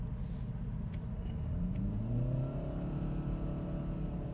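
A Kia Proceed GT engine revs up to about 3000 rpm, a steady close rumble that swells and climbs in pitch before easing, heard alone.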